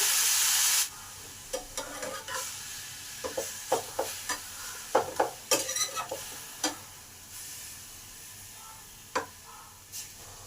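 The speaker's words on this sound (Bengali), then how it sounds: "প্যান গরম হলে প্যানে দিলাম হাফ চামচ তেল এবার এই জল ধরানো আলুটাকে" Water-soaked potatoes hit a hot pan with half a spoon of oil, setting off a loud burst of sizzling hiss that quickly settles into quieter frying, broken by sharp scrapes and taps of stirring.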